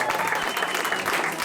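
Studio audience at a live radio show breaking into steady, dense applause, a brief burst of clapping heard close and fairly loud.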